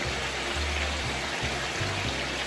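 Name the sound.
pouring cornstarch and water mixture into pan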